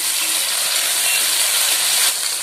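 Chopped tomato sautéing with onion in a pan while cooking a sweet pumpkin stir-fry, giving a steady, close, even hiss of frying that runs unbroken throughout.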